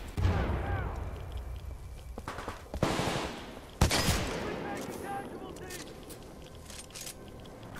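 Bursts of rapid automatic gunfire and booming shots fill a Titanfall 2 firefight, loud up close at first and then fading into scattered shots, while a player talks over the action.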